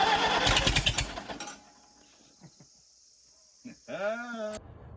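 A Farmall tractor engine turns over and fires with loud, rapid chugging pulses for about a second and a half, then cuts out, followed by quiet voices talking.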